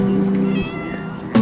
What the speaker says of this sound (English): Are you a shop kitty?